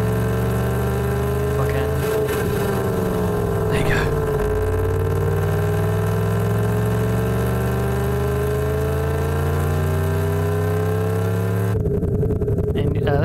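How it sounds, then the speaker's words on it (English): A simulated car engine in the Next Gen Engine Simulator game drones steadily with layered harmonic tones that dip and rise as revs fall under engine braking, continuous and loud throughout. "you'll actually hear the engine braking"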